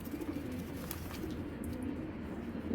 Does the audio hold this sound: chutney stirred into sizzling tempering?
no